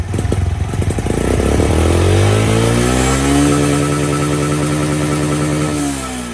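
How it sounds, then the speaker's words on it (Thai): A motorcycle engine revs up hard and holds at a rev limiter set around 8,500 rpm, the pitch climbing then bouncing against the cutoff, loud and close. "เดี๋ยวเราลองบิดรอบตัดดูก่อนนะครับ"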